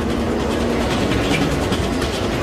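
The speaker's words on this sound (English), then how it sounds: "When a train enters an underground platform, it pushes a rush of air ahead of it." Underground train entering a station platform, a loud continuous rumble and rushing roar with rattling wheel noise that holds steady throughout, no voices present.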